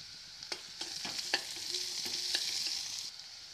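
Onions and chopped green chillies frying in a pan give a steady soft sizzle, with sharp spatula scrapes and clicks scattered throughout. No voices are heard.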